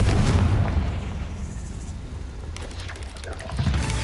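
Confringo fire spell exploding in Hogwarts Legacy, a loud booming blast that rolls and rumbles for several seconds and then swells again near the end.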